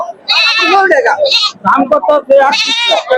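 Goats bleat repeatedly nearby at a village livestock market, loud nasal wavering cries in several bursts, with people talking in between.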